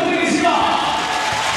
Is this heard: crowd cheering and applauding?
yes